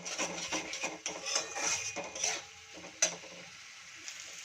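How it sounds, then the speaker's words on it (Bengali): Masala cooked down in oil sizzles quietly in a pan, with soft scraping stirs and occasional clinks of a spatula, close but faint. "তো মশলাটা কিন্তু অনেকক্ষণ কষানো হয়ে গেছে, এবার তেলও ছাড়ছে।"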